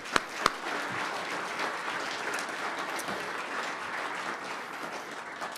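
An audience at the Cornerstone Press 40th anniversary celebration claps steadily for the people thanked in the program, a sustained wash of many hands after two sharp early claps, with no talking.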